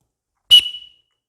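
A single short, sharp whistle blast signals the start of a short sprint at an elementary school, loud and close, fading quickly into silence.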